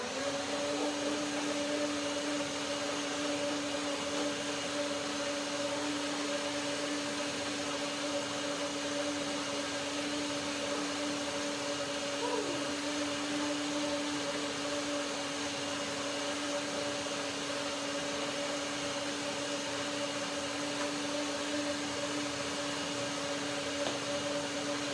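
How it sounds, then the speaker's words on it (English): A blender runs steadily, whirring through a turmeric and yellow bell pepper cashew soup, a constant close motor drone with a high whine that holds unbroken for the whole stretch. "I blend one more time to get the rest of the turmeric in there."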